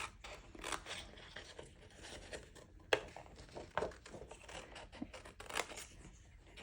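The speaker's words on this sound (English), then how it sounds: "Again, just cutting where the score lines are." Scissors snip through a slimline card-stock envelope along its score lines, a quiet run of crisp cuts and paper scrapes with sharper snips standing out, heard close and alone.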